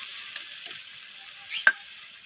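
Potatoes stir-fried in a pan with cumin powder and spices give a steady close sizzle, broken near the end by a single sharp scrape or clank of the spatula. No one speaks.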